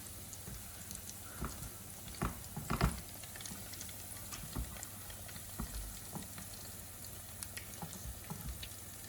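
Roast potatoes sizzle softly in lots of hot oil, a faint steady frying crackle with a few small clinks and knocks as tongs turn them.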